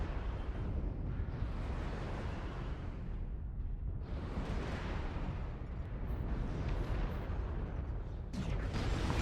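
Weapon fire on an Annihilator mech in MechWarrior Online, heavy rumbling bursts and booming impacts rolling continuously, swelling in several waves with a sharper crack near the end.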